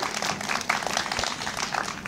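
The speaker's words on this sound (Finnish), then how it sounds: "Annetaan jättimäiset aplodit." An audience at the opening of a rescue-dog Saturday event breaks into a dense, continuous wash of applause, steady and fairly loud throughout.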